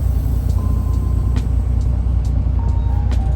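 A heavy truck rolls down a steep hill of about 20 to 25 degrees in second gear, its low engine rumble steady and close, with brief hissing air-brake bursts.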